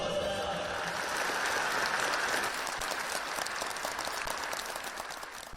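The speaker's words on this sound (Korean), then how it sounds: "아낌없는 박수갈채를 보냈습니다" A crowd applauds steadily and continuously, the clapping dense and sustained, slowly fading toward the end.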